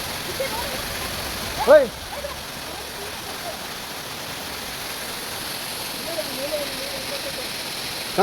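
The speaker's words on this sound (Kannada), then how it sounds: "ಇದು ಬಂದು ಮಿನಿ ಫಾಲ್ಸ್ ಹೇಳ್ಬೇಕು, ಆನ್ ದ ವೇಯಲ್ಲೇ ಸಿಗುತ್ತೆ ನಿಮಗೆ" A small roadside waterfall on the way to Coorg makes a steady broadband rush of falling water throughout, with a brief voice near the start and faint sounds of people in the background.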